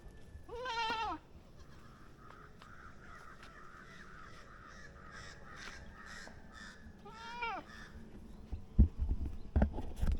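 Goats bleat on a livestock farm pasture, two clear, wavering calls several seconds apart, with crows cawing in the background and some rustling and knocks toward the end.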